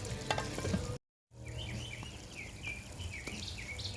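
Shakshuka tomatoes simmer and bubble in a pan on an outdoor Tribal Fire Grill, a soft continuous sizzle with faint birdsong chirping in the background and a short dropout of silence near the start.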